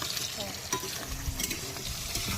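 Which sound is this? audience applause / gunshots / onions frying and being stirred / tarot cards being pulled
onions frying and being stirred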